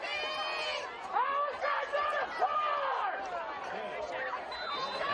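A packed basketball arena crowd in Tucson counts down the final seconds of an Arizona versus Oregon State game, a dense, loud roar of many voices and shouts that holds steady without a break.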